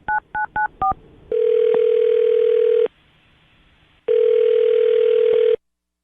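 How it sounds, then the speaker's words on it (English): A telephone number is punched in on a keypad with four quick beeps, followed by two long, steady ringing tones separated by a pause, with no voices. "I'm going to dial her phone number right now"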